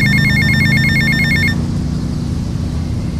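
An in-game telephone rings loudly in GTA Vice City, a repeating electronic bell trill that cuts off halfway through, leaving steady city and engine ambience.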